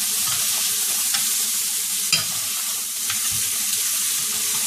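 Steak searing in a hot pan just after being flipped, a continuous close sizzle with a few scrapes and light clicks of stirring or handling.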